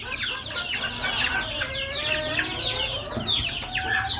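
Desi chickens on a rooftop cluck and squawk continuously during heavy rain, several birds calling close by in busy overlapping bursts over a low wash of rainfall.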